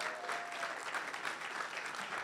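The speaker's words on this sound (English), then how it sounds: "Let's give Kim Harvey a round of applause" An audience at a networking summit gives a round of applause, a brief, steady wash of clapping from many hands, fairly soft and distant.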